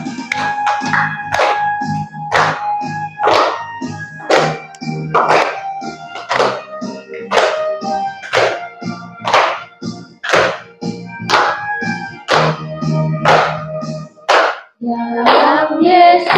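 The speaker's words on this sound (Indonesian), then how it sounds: "Boleh tepuk tangan." Rhythmic hand clapping in steady time along with the Catholic religious song "Dalam Yesus Kita Bersaudara" during a classroom religion lesson, loud sharp claps repeating about twice a second over group singing.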